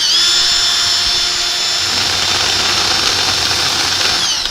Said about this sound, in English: I'm going to slow the lathe down even more just to get this piece up here